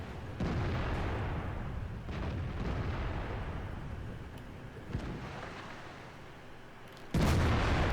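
Tank cannon fire in World of Tanks, a sustained rumbling boom-heavy barrage filling the scene with a sharp loud blast near the end, no talk over it.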